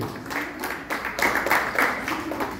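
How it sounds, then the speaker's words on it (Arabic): Applause and clapping from an audience at a regional Quran recitation contest in Larache as a contestant's result is announced, a steady patter of many hands that swells partway through and holds to the end. "تصفيقة حارة على حسن الشنتوفي"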